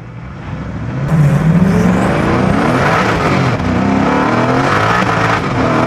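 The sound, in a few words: Koenigsegg Agera R accelerating hard through gears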